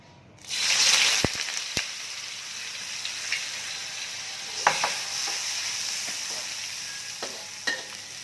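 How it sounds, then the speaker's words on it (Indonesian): Dried chilies dropped into hot oil for chili flakes, a loud hiss at first that settles into a steady sizzle with occasional pops and stirring clicks, no talking. "Ini digoreng seperti biasa ya, sampai kering, sampai kemeripik seperti itu"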